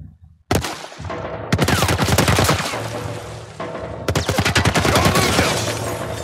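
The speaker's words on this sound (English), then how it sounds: "What the fuck are they shooting at us with? Some kind of military turret." A military turret fires in the video game The Last of Us, a loud, close, rapid machine-gun stream in sustained bursts with short breaks, heavy and relentless, with no talk.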